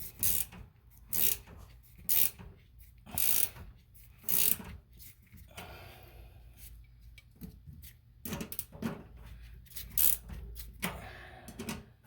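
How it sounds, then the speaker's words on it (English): A wrench ratchets and clicks while tightening a small-threaded coin vent fitting, in short bursts of metallic clicks separated by brief pauses, fairly quiet and close, with no talk. "once again I'm going to back wrench. And tighten it down."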